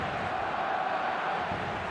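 Stadium crowd in the eFootball video game sends up a steady, even roar of distant cheering and chanting that fills the whole moment without a break.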